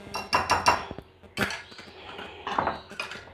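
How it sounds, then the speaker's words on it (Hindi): Chicken batter being mixed in a bowl, with clinking and scraping of a utensil against the bowl in irregular bursts, close and fairly quiet, with no talking. "इस बैटर को मिक्स करके इस सही तरह इसकी कंसिस्टेंसी हम ले आएंगे।"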